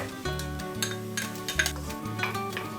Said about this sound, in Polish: Chwileczkę jeszcze smażymy.